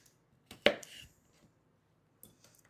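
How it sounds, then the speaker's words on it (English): A knife slices through peeled shrimp on a cutting board in a few crisp, close cuts, one sharp chop followed by softer strokes and a faint pair of taps near the end. "we're going to make these about 3 slices for each little shrimp"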